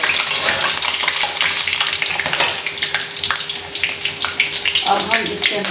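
Red and green chillies and coriander fry in hot oil for Hyderabadi baghare baingan, a loud, dense crackling sizzle with sharp pops and spatters that stays close and constant throughout.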